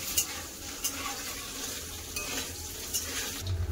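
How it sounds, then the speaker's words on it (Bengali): Eggs frying in a pan seasoned with Kashmiri chilli powder, a steady soft sizzle with a few light stirring clinks of a utensil against the pan, close and without speech. "এবার ভেজে নাও ভালো করে।"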